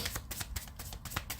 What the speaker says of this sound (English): As I'm shuffling this, another Ace of Cups came out.